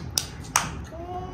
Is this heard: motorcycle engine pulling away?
no